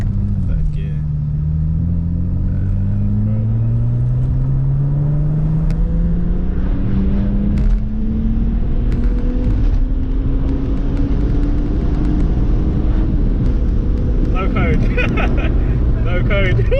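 A BMW 335i E92 with the N54 engine pulls hard in third gear, its loud engine note climbing steadily in pitch over the whole run, close and rumbling, with excited voices breaking in near the end.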